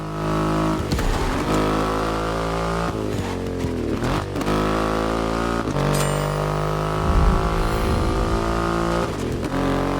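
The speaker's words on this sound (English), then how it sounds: "An extreme motorcycle with a huge presence." A Triumph Rocket 3 motorcycle with a 2.5-litre engine in The Crew Motorfest racing game roars steadily, its deep engine note rising and dipping with throttle changes and gear shifts.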